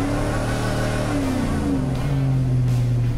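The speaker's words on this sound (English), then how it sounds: "She's coming alive. Both tires spinning, and the exhaust sounds great." A modified 2002 GMC Sierra 1500 pickup converted to a mid-90s look revs hard with both rear tires spinning, a loud continuous engine roar that rises in pitch, close by.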